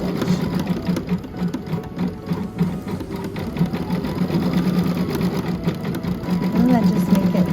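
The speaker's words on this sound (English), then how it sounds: "it will lay down some foundation stitches, and then it will go on top with a beautiful satin stitch." A Baby Lock Altair embroidery machine sews a dense satin stitch over foundation stitches for appliqué. Its fast, steady needle chatter runs close and continuous while a person talks over it.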